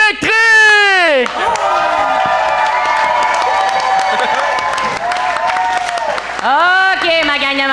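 A TV talent-show studio audience cheers and applauds loudly for a performing act, with sustained roaring clapping under bright whoops and shouting voices at the start and end.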